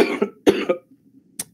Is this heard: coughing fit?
yes